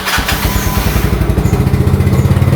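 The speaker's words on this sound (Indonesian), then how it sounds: "kalau mau di starter suaranya masih aslinya, knalpotnya masih aslinya" A Yamaha Mio Sporty 2008 scooter with stock exhaust starts up close by, a brief crank followed by a loud, rhythmic low putter as the engine settles into a steady idle.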